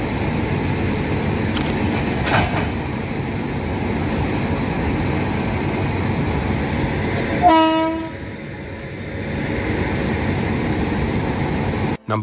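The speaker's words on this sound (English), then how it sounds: "a dedicated shunting locomotive is used to move train coaches" An Indian Railways shunting locomotive moves train coaches through a railway yard with a steady rumbling roll, and a loud horn blast sounds about two-thirds of the way in before the rumble resumes.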